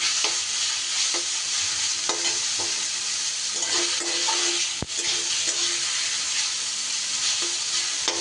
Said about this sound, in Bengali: ভাপিয়ে রাখা স্বাদটা দিয়ে দিলাম দিয়ে এবার ভালো করে একটু নাড়াচাড়া করে ভেজে নিতে হবে